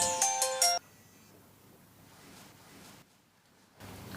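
A mobile phone ringtone plays a short, bright melodic burst of a few repeated notes. It cuts off abruptly after under a second, leaving near silence and faint background hiss.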